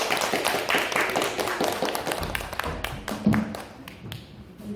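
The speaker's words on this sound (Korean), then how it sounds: "다시 한번 큰 박수 부탁드리겠습니다" Applause from an audience after a presentation at a Korean book-talk event, a dense wash of claps, fairly near and steady, thinning toward the end.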